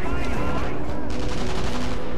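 Sniper gunfire in the video game Sniper Elite V2, loud and dense, rapid overlapping shots and rattling bursts that fill the whole moment without a break.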